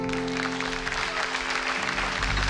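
A church congregation at a French-language worship service claps and cheers together in one continuous, dense burst of applause that fills the room.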